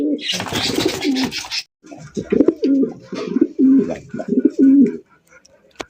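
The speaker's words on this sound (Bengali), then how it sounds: "আরো এক জোড়া রেসার কবুতর" Racing pigeons coo repeatedly at close range in a rhythmic series, after a brief rustling burst at the start.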